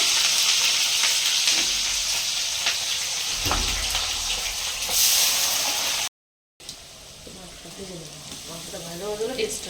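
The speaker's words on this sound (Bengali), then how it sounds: "গোটা জিরে ফোড়ন দেওয়া এখন পেঁয়াজ ছাড়লো" Sliced onion hisses and sputters in hot oil with whole cumin seeds, a loud close sizzle for several seconds, then a brief silent gap before quieter frying resumes under a voice.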